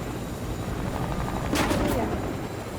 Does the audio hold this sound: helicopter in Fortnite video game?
yes